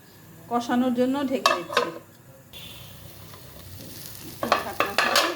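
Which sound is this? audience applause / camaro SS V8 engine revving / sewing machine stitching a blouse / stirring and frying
stirring and frying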